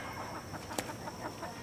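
Chickens inside a cattle panel chicken tractor cluck softly, with a few short calls and one sharp sound in the middle, over a steady outdoor background hum.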